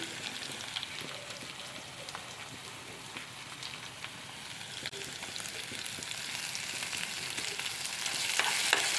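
Ginger garlic paste being stirred into browned onions frying in a pan, a soft steady sizzle with scattered crackles and light utensil scrapes that grow slightly louder toward the end.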